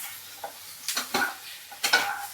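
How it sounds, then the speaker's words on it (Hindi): Taro leaves being dry-roasted in a little mustard oil in a pan, with scattered stirring scrapes and short sizzling bursts, a few distinct clatters of a spoon against the pan, close and fairly quiet. "सरसों के तेल को पका के थोड़ा सा तेल लेके उसमें सूखा सूखा इसे भून लिया जा रहा है।"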